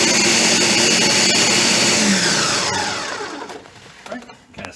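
A Ninja blender blends a peanut butter smoothie with a loud, steady whirring roar that later drops in pitch and becomes uneven as the motor slows and the load shifts.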